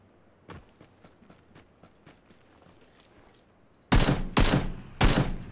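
Gunfire in PUBG: Battlegrounds, with faint distant shots and footsteps at first, then three loud, close bursts of shots near the end.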